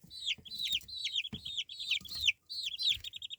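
Mixed-breed chickens sired by a lavender Orpington rooster cluck and chirp in a rapid, repeating series of short calls close by, with soft shuffling between them.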